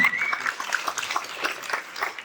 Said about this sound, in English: So give yourselves a round of applause for making a good decision.